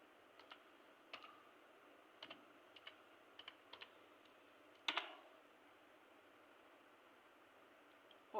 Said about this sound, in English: then I shall enter the password of this user